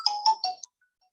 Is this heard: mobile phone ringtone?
yes